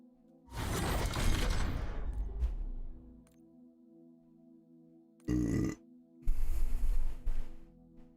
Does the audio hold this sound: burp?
yes